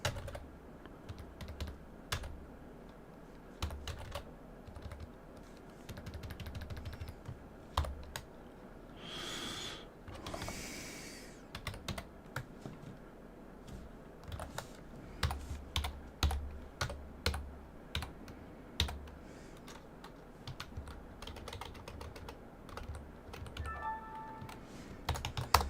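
Someone types steadily on a computer keyboard while coding, with rapid, fairly quiet key clicks and taps close by and a few louder strikes.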